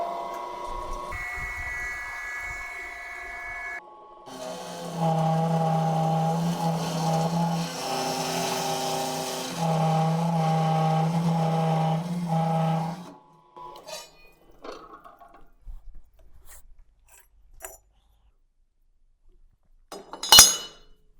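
A 3-phase metal cutting saw set for a 90-degree cut hums into a loud, steady tonal whine as it cuts, then winds down, followed by a few scattered metallic clinks.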